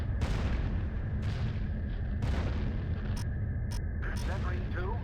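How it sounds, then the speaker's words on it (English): Explosions boom in the Falcon 4 Allied Force flight simulator, several heavy blasts arriving one after another over a constant engine rumble, with clipped radio-style tones and chatter near the end. "Explosions."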